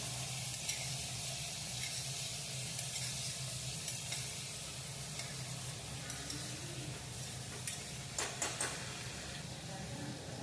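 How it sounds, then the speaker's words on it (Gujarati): Tomato is added to a hot, sizzling pan for a pea and potato curry and stirred in, producing a continuous soft sizzle with a few scraping stirring clicks near the end and no talking. "પછી તેની અંદર આપણે ટામેટું ઉમેરી દઈશું. બધું હલાવીને આપણે મિક્સ કરી દઈશું."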